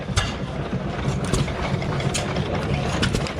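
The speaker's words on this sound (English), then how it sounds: "This is an Eclipse oil field engine." A propane-fired Eclipse oil field engine with a hot tube runs nearby, a low uneven chugging with irregular knocks and clatter, other engines running around it.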